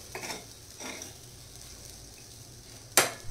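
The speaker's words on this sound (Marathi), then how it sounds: "आणि आता आपण ही छान लिंबू टाकल्यानंतर मिक्स करून घ्यायचे।" Spoon stirring lentil prasad in a pan just after lemon is added, a few soft scraping strokes near the start followed by quiet, then a sharp clattering scrape near the end, with no talking.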